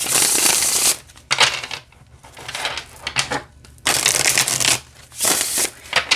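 Linen-finish tarot cards are shuffled in several quick riffling bursts with short pauses between, crisp and close.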